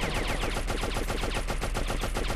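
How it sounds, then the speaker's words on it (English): Rapid video game gunfire from Oddworld: Abe's Exoddus, a dense unbroken stream of loud shots fired repeatedly with no pauses throughout, standing alone without talk. "If I shoot this thing enough, it'll work eventually."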